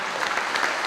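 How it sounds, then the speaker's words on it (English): A short burst of steady audience clapping at a school ribbon-cutting ceremony, dense and continuous throughout. "Let's give them a big round of applause because they support our kids and all that they do"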